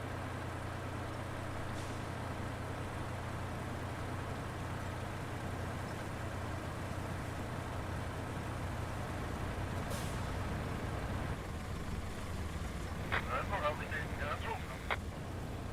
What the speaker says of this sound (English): We're going to go off-road a bit here to let that truck come through.